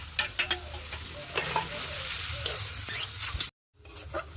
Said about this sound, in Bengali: মাংসটা ভালো করে কষিয়ে নিয়েছি